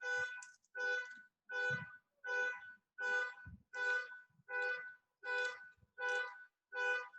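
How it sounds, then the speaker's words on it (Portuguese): Car alarm going off outside a building during an online class, heard from indoors as about ten evenly spaced, loud, pulsing electronic tone bursts repeating steadily. "Alarme de carro."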